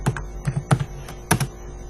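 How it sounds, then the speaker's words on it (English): Several separate keystrokes on a computer keyboard as a runner's name is typed into a C++ race program: a few sharp, close clicks in an uneven rhythm, alone with no talking. "But now I will type Usain Bolt."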